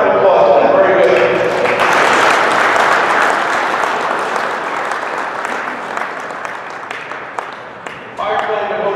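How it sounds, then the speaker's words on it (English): An audience at an Endicott event gives a sustained round of applause, a loud, dense roar of clapping with some cheering and crowd voices, easing off slightly before a person begins speaking near the end. "I give him a round of applause."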